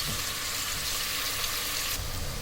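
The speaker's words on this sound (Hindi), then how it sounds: "अब उसी ऑयल में मैं डालूंगी ये प्याज" Sliced onions sizzle in hot oil in a pan while cooking bitter gourd sabzi, a steady close, dense crackling hiss that holds without pause.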